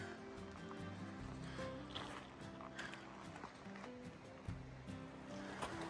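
Evolution Creek on the John Muir Trail, a mountain stream flowing in a steady, continuous rush of water, moderately close, with faint clinks and footsteps over it.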